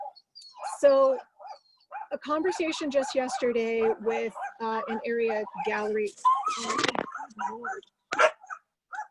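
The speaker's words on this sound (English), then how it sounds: "there goes the barking dog across the street" A dog barks across the street, distant and intermittent, beneath steady conversational speech that dominates throughout.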